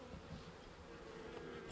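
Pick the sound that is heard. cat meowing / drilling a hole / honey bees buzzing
honey bees buzzing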